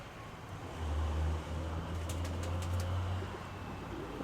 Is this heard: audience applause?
no